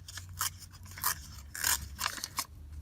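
A scissors edge scrapes across paper to distress it for a Christmas junk journal, making about six close, raspy strokes in an uneven rhythm with short pauses between them.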